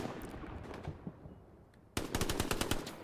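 Gunfire in a military console shooter match: rapid bursts of automatic shots, with scattered pops early on and then a loud, dense volley near the end, and no voices.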